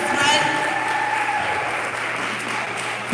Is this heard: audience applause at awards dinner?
yes